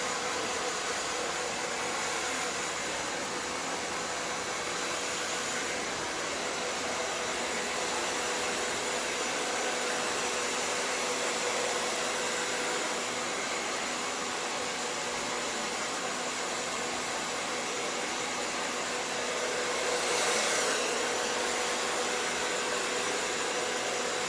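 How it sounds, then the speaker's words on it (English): A hair dryer blowing air through hair during a salon blowout, a steady loud whooshing roar held close and unbroken throughout, with slight shifts as the airflow moves, and no talking. "So I just want to move it around so that the airstream goes through each of the hairs"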